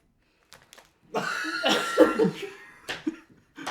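A person coughs a few times close up, with short bursts and a throaty rasp, followed by a couple of brief breathy sounds.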